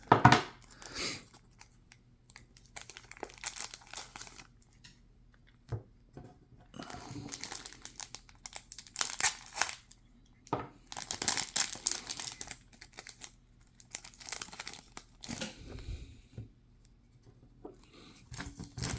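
A 1983 Topps baseball card rack pack is opened by hand at close range, with intermittent bursts of crinkling, crackling wax wrapper and tearing paper separated by quiet pauses.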